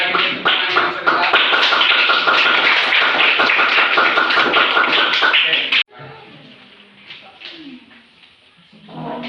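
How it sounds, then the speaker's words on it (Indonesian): Classroom applause for a presenting group, sustained dense clapping for about six seconds that stops abruptly, followed by quieter room noise and faint voices. "Sekali lagi tepuk tangan yang sebentar."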